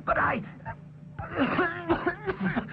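A few throaty coughs and throat-clearing sounds from a nearby voice, broken by short pauses and mixed with brief vocal murmurs.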